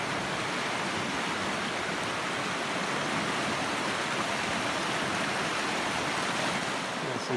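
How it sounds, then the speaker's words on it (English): Water flows along Clear Creek near Whiskeytown, a steady, even rush of broadband noise with no breaks or distinct splashes, close and continuous throughout, with no voices. "So this water is moving."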